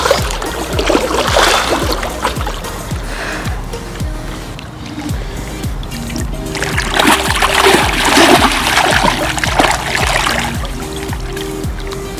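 A carp released back into a river thrashes and splashes at the water's surface, loud and close, with bursts of churning water over a steady background hum.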